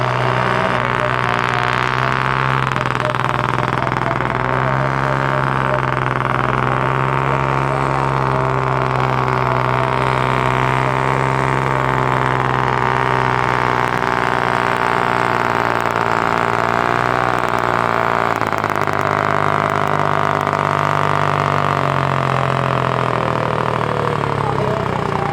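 A pulling tractor named Pikku Liisa revs at full throttle during a 2500 kg farm-class tractor pulling contest, its engine droning loud and sustained for the whole stretch, with a commentator talking over it.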